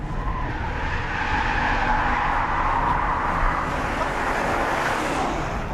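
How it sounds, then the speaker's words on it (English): Jaguar XFR-S supersaloon spinning its rear tyres in third gear at about 65 mph, a sustained loud screeching tyre squeal over a steady engine roar, continuous and close for several seconds with no talking. "the Jaguar XFRS is not all about shredding the rear tyres in third gear at 65 miles an hour"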